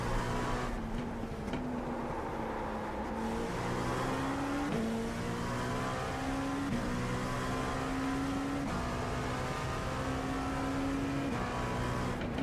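Race car engine in an iRacing replay, a continuous buzzing whine that climbs in pitch, drops at each gear change and climbs again, moderately loud and uninterrupted.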